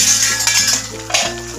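A utensil scrapes and clinks against a pan while beef and broccoli gisado is stirred, a few short metallic knocks over a steady background hum, close and fairly loud.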